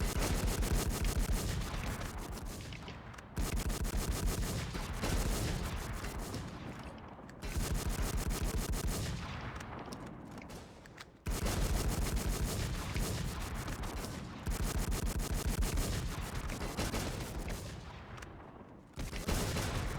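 Rapid gunfire bursts in the online fantasy game Fantasy NewWorld, loud and dense, repeating in sustained volleys roughly every few seconds with brief gaps between.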